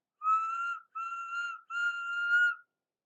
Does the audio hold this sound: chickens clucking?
no